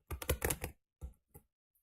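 Computer keyboard keys typed during a PC gaming session: a quick run of clustered clicks for under a second, then a pause and two or three isolated taps, close and fairly quiet.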